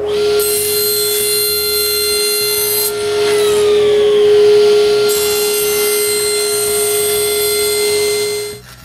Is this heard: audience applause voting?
no